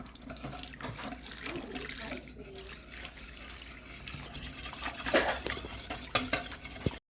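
A whisk stirs warm water into yeast in a bowl for soft pretzel dough, making soft swishing and clinking against the bowl, moderately close and fairly quiet throughout.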